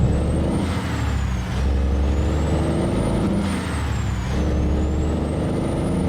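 A bus in American Truck Simulator hisses loudly with air brakes as it stops, a steady close rumble with a rising and falling whine and sharp releases of air.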